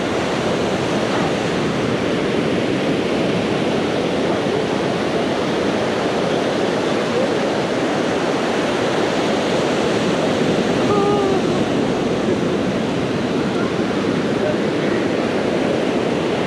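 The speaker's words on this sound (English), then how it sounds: "these waves are breaking too close to the shore" Ocean waves breaking close to the shore at Stinson Beach, California, a continuous loud wash of surf and wind with no clear individual breaks, some faint distant bird calls.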